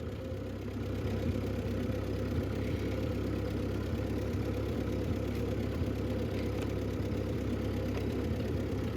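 A 1950 Ford 8N tractor engine with a carburetor needing tuning runs at a steady low rumble, close and continuous with no talking.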